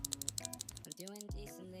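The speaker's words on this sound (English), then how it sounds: "This comes with the cocoa cream switches from Yunzii, which gives that creamier feel when typing" Typing on a Yunzii B68 mechanical keyboard fitted with cocoa cream switches: a quick run of soft, rounded clacks in close succession, then a short break and a few more scattered key presses, with background noise in the pause.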